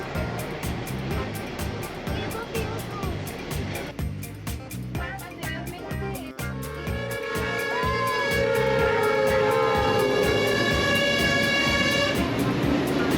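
A tourist train near the Panama Canal rolls along with a steady clatter and rumble, growing louder partway through, with a clicking rhythm and some distant background noise.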